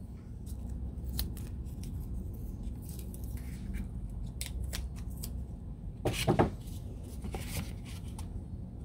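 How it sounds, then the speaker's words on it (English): Tape is pulled off a roll and torn in a garden while covering shade cloth over a black soldier fly bin, a close, sharp ripping burst standing out over low steady background noise, with faint scattered handling clicks. "So let me pull off a little bit of tape."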